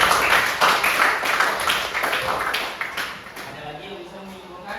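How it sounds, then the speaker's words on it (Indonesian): A classroom claps for a student, a burst of many hands clapping together at moderate loudness that thins out and fades over a few seconds, with a voice talking over it. "Boleh tepuk tangan buat Regina."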